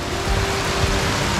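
Steady heavy rain pours down during flooding in Davao, a dense broadband hiss of water holding unbroken and fairly loud throughout, with a faint steady tone running underneath.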